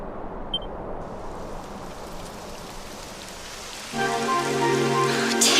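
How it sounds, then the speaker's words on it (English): In the video game Dragon Quest 11, rain falls as a steady hiss that holds for the whole stretch, with a brief chime near the start and a tonal layer that joins over it toward the end. "It would have to go and start raining, wouldn't it?"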